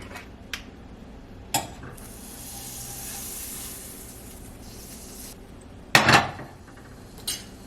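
Butter sizzles in a very hot pan on a stovetop, a soft steady hiss swelling for a few seconds and then dropping away, broken by sharp clanks of a utensil against the pan, close by with no talking.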